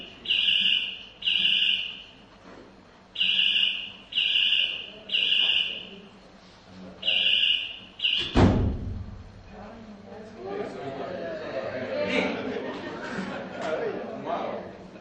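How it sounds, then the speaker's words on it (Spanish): A burglar alarm sounds through an open front door, beeping in a steady rhythm of rapid bursts. A thud follows, then indistinct talking and background noise. "Una alarma de robo. Tiene la puerta delante abierta."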